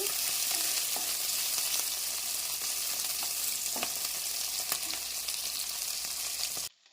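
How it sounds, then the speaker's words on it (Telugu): Potatoes fry with onions in a pan, a steady close sizzle broken by a few sharp spatula clicks as they are stirred, cutting off abruptly at the end. "ఇది ఎక్కువ ఏం ఫ్రై అయినట్టు మళ్ళీ ఉల్లగడ్డతో పాటు అది కూడా ఫ్రై అవుతుంది, ఆలుతో పాటు."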